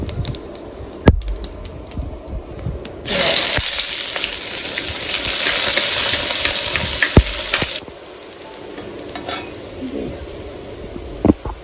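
Cumin seeds and onion dropped into hot oil, a loud steady sizzle bursting in after a few seconds and fading near the end, with clanks and scrapes of a utensil against the pan.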